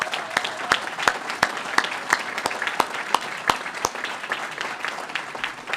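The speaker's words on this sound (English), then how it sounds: "if I could just ask for a round of applause for the captains in the room" Applause for police captains at a Boston Police Department National Night Out luncheon: a room of hands clapping steadily for about six seconds, with loud, sharp individual claps standing out close by above the general patter.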